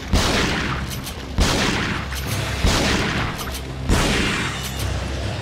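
Bursts of loud, booming shotgun fire in the video game Resident Evil 4 repeat roughly every second and a quarter, each blast trailing into heavy rumbling noise, with no voices.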